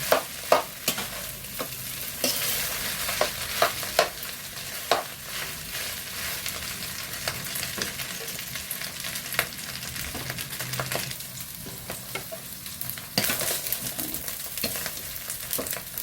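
Garlic fried rice with plenty of garlic being stirred and fried crisp in a pan, a steady sizzle broken by repeated scraping clicks of a utensil, close and continuous.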